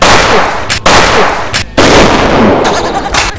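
Gunfire sound effect in a Thai comedy sketch, a loud, dense run of sharp shots filling the clip with brief gaps between bursts, with faint voices beneath.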